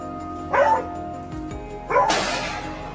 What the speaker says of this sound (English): After climbing up the steep mountain, the hound's sharp barks rang out, putting us on high alert.